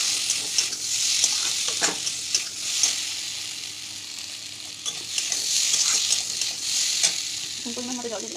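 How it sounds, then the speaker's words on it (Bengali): Curry sizzling and being stirred in a pan as water is poured in to make a gravy; steady loud frying hiss with intermittent scraping of a spoon against the pan. "এখন পরিমাণ মতো জল দিয়ে দিলাম"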